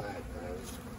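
Honey bees buzz steadily around freshly extracted, still-wet honey supers in a yard with a few hundred hives, a constant close drone with faint voices underneath.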